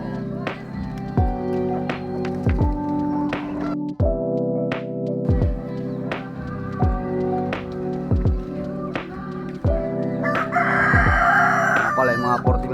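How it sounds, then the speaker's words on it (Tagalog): Chickens cluck and a rooster crows repeatedly at a home in the Philippines, the calls close and loud, overlapping in an irregular rhythm with brief fluttering near the end. "May manok rin ako dito naglilimlim."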